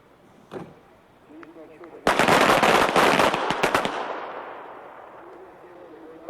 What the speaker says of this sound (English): draw your weapon, fire 2 shots, and return the weapon to the holster